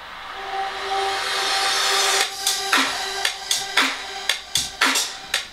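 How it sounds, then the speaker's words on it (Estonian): Pop-track riser and impact effects: a bright noisy swell with tonal hum building for about two seconds, then a string of sharp rhythmic impact hits with falling tails, close and loud. "riserid, mingid impactid, mis annavad siis loole nagu siukse pinge juurde,"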